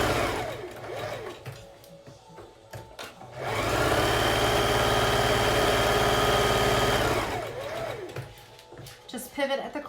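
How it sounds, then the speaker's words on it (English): A sewing machine stitches around the edge of a fabric face mask, a loud steady mechanical whir running for several seconds close up, framed by a voice explaining before and after. "just put it right under your machine and all the way around the face mask"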